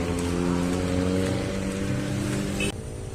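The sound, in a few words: rain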